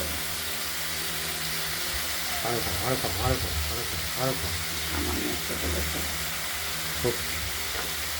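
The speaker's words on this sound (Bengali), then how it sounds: "আলুগুলোকে একটু তেলেতে নাড়াচাড়া দিয়ে" Potatoes sizzle and crackle steadily as they are stirred in hot oil in a pan, a constant frying hiss running beneath a person talking throughout.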